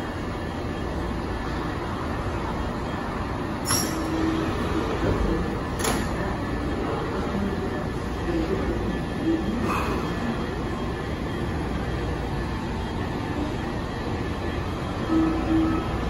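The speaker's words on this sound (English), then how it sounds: "It's time to watch it leave." A Washington Metrorail 3000 series Silver Line train hums steadily with a few brief high squeals and clanks as doors open and it pulls away, the rumble continuing throughout.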